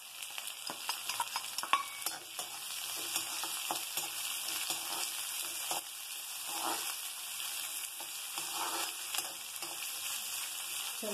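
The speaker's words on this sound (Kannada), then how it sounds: "ಸ್ವಲ್ಪ ಹೊತ್ತು ಫ್ರೈ ಆಗ್ತದೆ" Garlic, green chillies and onion fry in a pan with a continuous mid-level sizzle, opening with a cluster of quick stirring clicks before settling into an even crackle.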